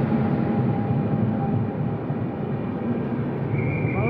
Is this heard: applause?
no